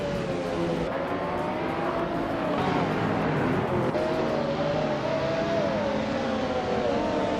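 Race car engines roar at the race start at Sportsland Sugo in a video game, a dense, steady wall of revving motors with rising and falling pitch throughout, loud and continuous.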